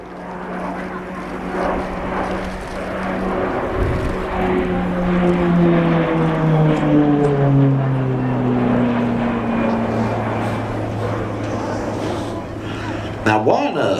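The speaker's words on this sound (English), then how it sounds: "pair of Pratt & Whitney PT6 turboprop engines, make it very quiet and very, very efficient" A steady turboprop drone from a Beech B200 King Air's twin Pratt & Whitney PT6 engines, with a rising and falling propeller hum, continuous and fairly loud, ending in a brief clatter.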